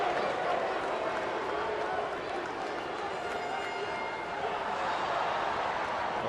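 A baseball crowd at a Phillies at Pirates game in Pittsburgh groans at a called pitch, a dense, steady roar of many voices filling the ballpark beneath a commentator's voice.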